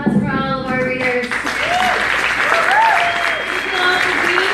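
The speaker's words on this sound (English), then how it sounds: "Let's get another round of applause for all of our readers." Audience applause for the readers at a poetry and literary reading event, a steady, dense wash of clapping that fills the room throughout while a voice speaks over it.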